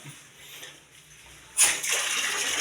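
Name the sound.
shower running with strong water flow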